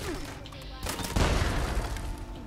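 Fanatic turrets firing in the video game Fallout 76, heard as a dense rattling fusillade of gunshots with booming bursts, growing heavier midway and continuing steadily to the end.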